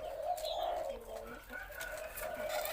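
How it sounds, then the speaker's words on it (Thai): Spotted dove giving a deep three-note cooing call, repeated in a rhythmic phrase, faint and a little distant, with light background noise and no talk. "สามกุกเสียงใหญ่ ท่านไหนที่ชอบแนวสามกุกเสียงใหญ่ตัวนี้ได้เลยค่ะ"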